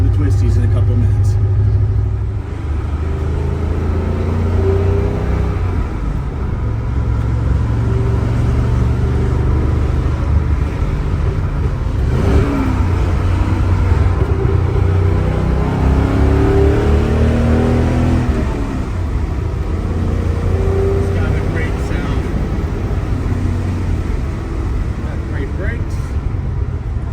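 A 1968 Maserati Ghibli 4.7-liter coupe's engine drones loudly and steadily from inside the cabin on a twisty road, rising and falling as it revs through bends, with no talking over it.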